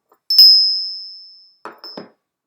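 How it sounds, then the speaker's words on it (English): A single loud bell strike rings out clearly and decays slowly over about a second, followed by a couple of soft short sounds. "it will be a loud bell that you will hear now"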